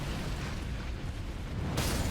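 A boss's explosion and shockwave in Elden Ring: Shadow of the Erdtree, a dense, rumbling blast that rolls on for about two seconds and swells into a brighter roar near the end.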